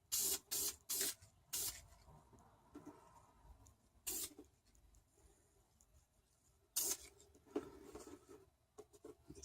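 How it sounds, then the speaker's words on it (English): Several bursts of aerosol spray paint hissing onto a motor, some in quick succession, with quieter rustling and handling sounds between them. "I'm just going to spray this."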